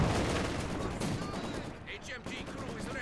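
In a Company of Heroes 2 battle, steady crackling gunfire and distant mortar impacts rumble continuously, with small-arms bursts layered over a dense battlefield din.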